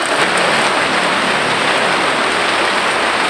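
Rain falling steadily outdoors among mulberry trees, a constant dense hiss of drops on leaves and surfaces, fairly loud and continuous with no talk.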